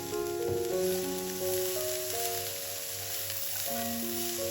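Cabbage seasoned with salt, pepper and dried thyme cooks and wilts in a pan with a steady loud sizzle, while soft music plays alongside.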